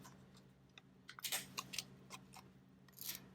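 Scissors trimming rounded corners on a laminated washi sticker, a handful of quiet, close snips and crisp clicks spaced irregularly over a few seconds.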